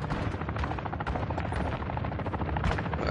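Dense automatic gunfire from Modern Warfare III on PS5, a loud continuous rattle of rapid shots with heavy low rumble, unbroken across the whole stretch.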